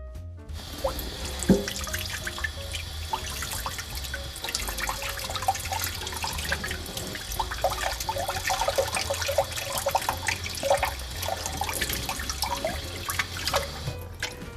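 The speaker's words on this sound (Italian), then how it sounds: "potreste sciacquare tranquillamente il vostro burro in acqua fredda." Clarified butter is rinsed under cold tap water, a steady running stream splashing in a sink with scattered drips and splatters throughout, close and continuous, no voices.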